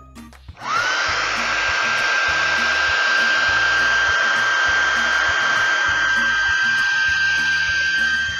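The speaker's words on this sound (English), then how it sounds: "now let's blow dry it again" A hair dryer blows steadily on a painted moccasin paperweight, starting up abruptly after a brief quiet moment, then running as a loud, continuous whirring rush with a steady high whine held to the end.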